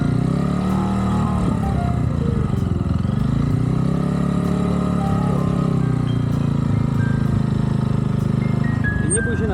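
A motorcycle engine is held at a steady throttle around 3000 rpm while a beginner learns to ride. It gives a loud, close, even drone that wavers slightly, with people talking over it.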